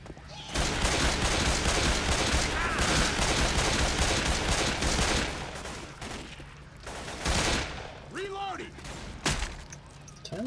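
Heavy, near-continuous gunfire from several players in the Left 4 Dead 2 No Mercy campaign, a dense roar of overlapping shots that eases briefly before resuming in bursts, with people talking over it.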